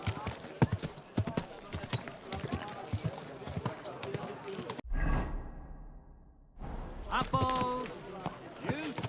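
A horse's hooves clip-clop on hard ground amid busy voices, street bustle and market calls, broken by a brief whooshing pass before the talk resumes.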